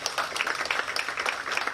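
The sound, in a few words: audience applause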